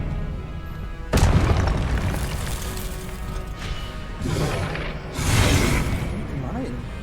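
Expelliarmus spell cast during combat in the video game Hogwarts Legacy, a sudden loud magical blast with a crashing impact, followed by further bursts and a rumbling tail amid ongoing game noise.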